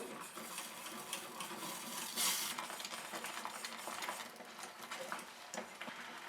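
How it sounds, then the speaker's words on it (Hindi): A whisk stirring Alfredo sauce in a pan, a quick continuous scraping and swishing with faint metallic clinks, close and moderately quiet throughout. "अब इसको विस्क के साथ अच्छी तरह से मिक्स करेंगे।"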